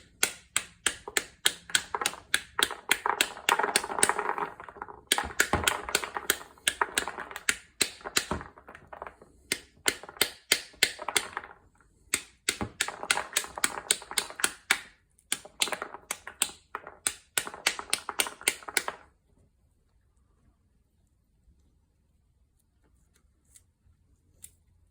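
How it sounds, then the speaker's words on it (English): A wooden spoon taps repeatedly on the back of a pomegranate half, giving quick, crisp knocks in bursts with short pauses for about twenty seconds, then near silence. "then we just get a wooden spoon and just give it a tap, and that should make all the jewels fall out"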